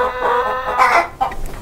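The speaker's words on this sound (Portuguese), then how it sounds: "Olha as galinhas. São 150 galinhas, um bom galinheiro lá." Hens in a henhouse holding about 150 birds on a small rural farm cluck loudly and close by, a few overlapping calls in quick succession with no talking.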